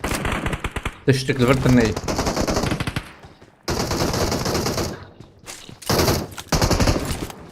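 Rapid bursts of Uzi submachine gun fire crackle loudly in several sustained volleys with brief gaps, while voices talk and one voice sings over the shooting.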